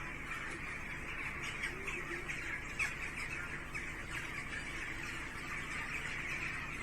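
Many birds chirp and squawk together in a dense, constant chorus, mixed with a steady background hiss.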